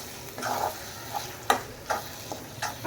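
Egg rice in a pan on medium heat crackles and sizzles as a utensil stirs it, giving a few distinct scraping strokes and taps over the constant frying hiss, with no talking.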